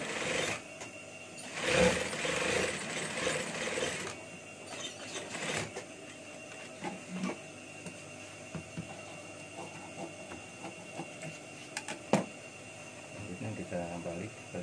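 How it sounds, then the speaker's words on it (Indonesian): Sewing machine stitching the lining of a side trouser pocket on a scout uniform, a close mechanical whir running in bursts with small clicks and ratcheting taps, while someone talks over parts of it. "Baru kita jahit untuk lapisannya seperti ini."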